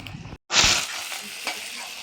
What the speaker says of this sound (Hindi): प्याज थोड़ा सा फ्राई करते हैं, प्याज का कलर चेंज होगा तो फिर डाला जाएगा।